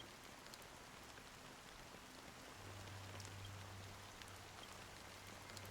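Rain falling in the video game Honkai Star Rail: a soft, dense, even hiss of drops on a surface, quiet and unbroken, with a low hum entering partway through.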